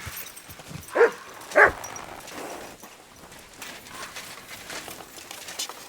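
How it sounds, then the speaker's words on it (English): Dog in the Kingdom Come: Deliverance II video game giving two loud, close barks in quick succession, followed by quieter whimpering and background game noise. "Good dog, Mutt"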